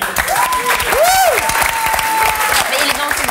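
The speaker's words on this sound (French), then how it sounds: "Bravo Samuel, vous pouvez l'applaudir" Studio audience on a French talk show applauding a guest, steady clapping and cheering with whistles and a voice rising over it.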